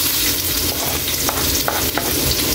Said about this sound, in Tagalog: Ilagay na natin yung mga sangkap natin, gigisa na natin.